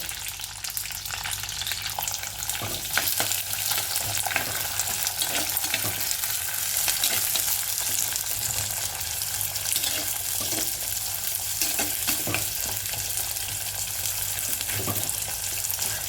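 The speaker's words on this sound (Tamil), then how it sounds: "கடுகு வெடிச்சிருச்சு இப்போ வெங்காயம் தக்காளி வதக்குவோம்" Steady, loud sizzling of onion and tomato sautéing in hot oil with occasional stirring scrapes, continuous throughout.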